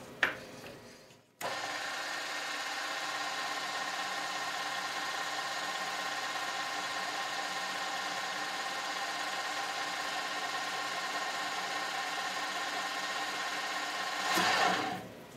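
A milling machine with its quill power feed engaged at 300 RPM starts after a click and runs with a steady, even mechanical whir and hum for about thirteen seconds, then winds down.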